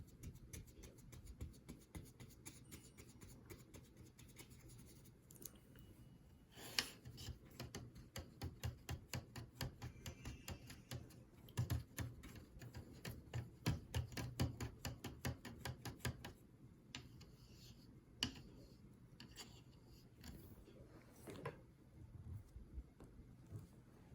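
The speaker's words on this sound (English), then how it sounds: "Now you can hear the paint" A paint brush works over a surface in soft, rhythmic scratchy strokes, close and quiet, repeating steadily for over twenty seconds with no talking.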